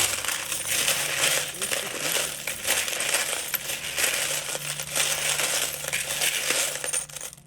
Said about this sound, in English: I'm going to be swishing these around, and there's some metal pieces, so it makes some clicking noises